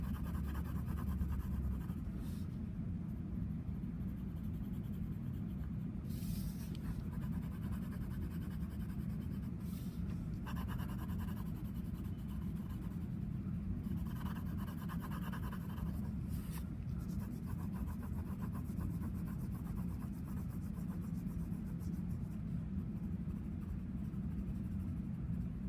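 A pencil shades a value scale on paper with steadily lightening pressure, its soft continuous scratching running alone over a low steady room rumble, with a few slightly brighter strokes along the way.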